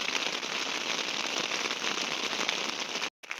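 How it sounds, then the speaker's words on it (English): Rain beats on a hiking tent on Dartmoor, a dense steady patter close overhead that continues without pause until a sudden brief cut near the end. "As you can hear, the rain's picked up again."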